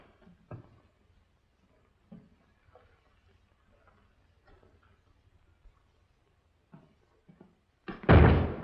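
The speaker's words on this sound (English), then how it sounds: "Hey, careful of that door. You make my muffins fall." A door slams loudly near the end, a sharp broadband burst after quiet indoor stretches of faint shuffling footsteps and small knocks in an old Western town interior.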